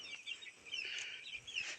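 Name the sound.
backyard chickens clucking at feeding time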